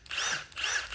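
A variable-speed drill driver spins up twice on wood in quick succession, each burst a close whining whir that rises and falls in pitch as the trigger is squeezed.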